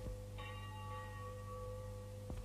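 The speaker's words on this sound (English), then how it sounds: "Church bells were ringing, calling the devout Belgian people to early mass." Church bells ring on a Sunday morning in the red brick town of Mons, Belgium, holding steady, sustained tones, faint and distant, with no talking.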